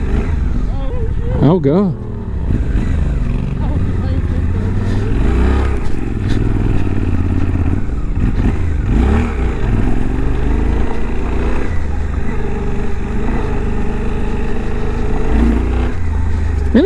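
Suzuki V-Strom 800DE motorcycle engine revving hard and bogging under full throttle, a loud, continuous rumble up close with a sharp scrape and clatter near the start, and a rider's voice talking over it throughout.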